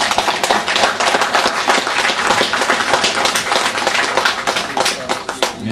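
A French-speaking audience warmly welcomes speakers called to the front with loud, close, dense applause. Many hands clap rapidly and continuously throughout, and no voices are heard.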